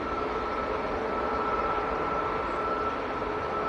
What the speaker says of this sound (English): So that was Ryanair to Madrid, rolling away.